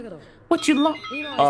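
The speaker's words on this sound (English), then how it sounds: "Sorry, that was my alarm to wake up." A cell phone alarm ringtone chimes briefly and tonally at the start before a voice cuts in and talks over it.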